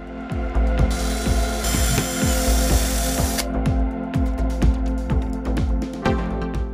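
A power drill bores a hole through a small wooden blank glued to a solenoid rod, whining loudly with a rapid, repeated ratcheting clatter and a brief stretch of harsher high-pitched grinding.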